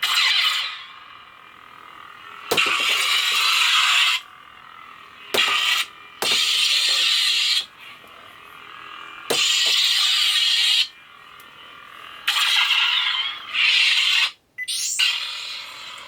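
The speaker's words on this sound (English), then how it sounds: "This is a yellow blade, kind of a Sith sound font going on" Buzzing electronic lightsaber hums swell and cut off in several bursts, each ignition crackling on and humming steadily before shutting off abruptly, with quiet gaps between.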